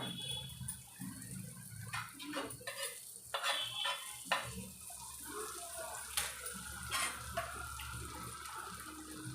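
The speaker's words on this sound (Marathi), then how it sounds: "पॅनवर थोडस बटर घालूया" Butter melting on a hot pan for pav bhaji, a soft continuous sizzle with scraping and stirring taps, heard close and fairly quiet.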